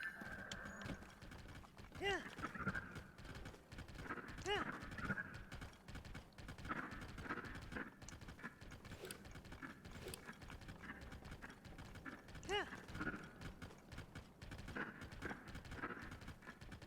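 A horse's hooves clip-clop at a steady ride in Zelda: Tears of the Kingdom, the rhythmic thuds moderately close, with game chimes and a faint background voice at times.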